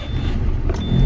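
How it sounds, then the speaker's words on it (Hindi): Diesel engine of a Tata 2823 dump truck idling right after starting, a steady loud low rumble close by throughout, with no voices. "तो चलिए सबसे पहले गाड़ी को स्टार्ट करते हैं।"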